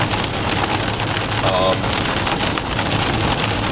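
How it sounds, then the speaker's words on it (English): Steady rain drums on a camper van during a road trip toward Colorado, a continuous dense hiss filling the whole stretch with no breaks. "More rain going on here."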